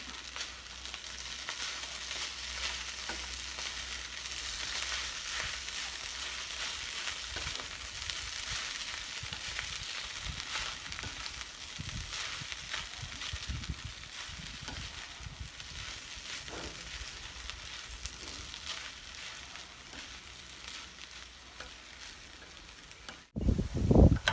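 Steady crackling sizzle of fried rice frying in a small pan, continuous and fairly close, ending with a brief louder clatter.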